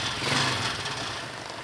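A motorcycle engine settles into a steady, fairly quiet idle right after a single kick start, running alone with an even mid-pitched hum.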